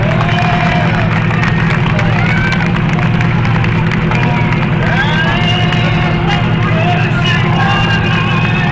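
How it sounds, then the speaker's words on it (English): Outdoor crowd at a Patriot Flag event in Rouses Point, a steady hubbub of voices and scattered cheering under constant background rumble, with no single burst standing out. "Listen to the people cheer."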